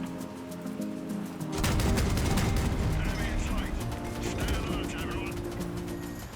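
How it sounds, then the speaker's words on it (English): Mandrake weapons fire across the map in the vehicle combat game Crossout, a dense volley of booming shots and crackling impacts over a constant engine rumble, loud and sustained. "Let's try shooting across the map again."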